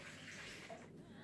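Warm water pours steadily into a bowl for chagaldak dough, a soft, continuous splashing trickle at close range with no talking.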